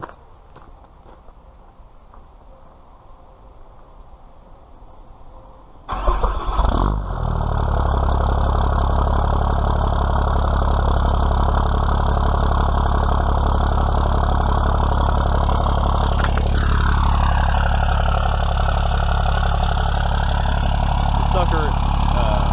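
A first-generation truck engine with a loud exhaust roars into life partway through after quiet clatter and footsteps. It then settles into a loud, steady, throbbing idle, and a faint whine shifts in pitch near the end.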